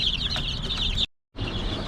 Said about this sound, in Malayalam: നാടൻ കോഴി കുഞ്ഞുങ്ങൾ തന്നെയാണ്.